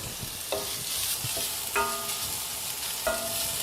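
Finely chopped onions sizzle steadily in a hot pan while a metal spoon scrapes and stirs them in a few sharp, ringing strokes, near and without voices, during the cooking of palak paneer gravy.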